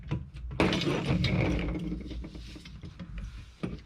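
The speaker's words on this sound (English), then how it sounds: "Wrench." A ratchet wrench turning on a DIY beach fishing rod holder, a run of close clicking ratchet strokes over a few seconds.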